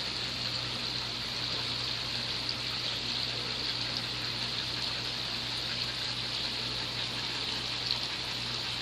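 A Hayward Navigator Pro suction pool cleaner works underwater in a swimming pool, giving a steady, even rush of water and bubbling over a low pump hum, continuous and unchanging.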